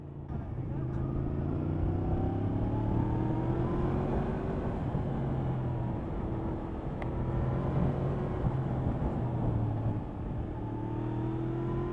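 A Yamaha MT-10 motorcycle accelerating through the gears, a loud steady engine drone that climbs in pitch, drops, and climbs again, heard from on board over heavy wind rumble.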